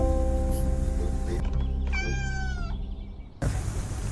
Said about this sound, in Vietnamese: Mèo dễ thương quá.